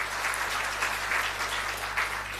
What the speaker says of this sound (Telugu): ఒకసారి చప్పట్లు కొడతామా?